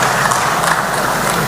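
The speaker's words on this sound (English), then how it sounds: "I think that deserves a round of applause, ladies and gentlemen" Audience applause at a Diaspora Town Hall Meeting with President Mahama in London, a steady, dense wash of clapping from a large crowd holding level throughout.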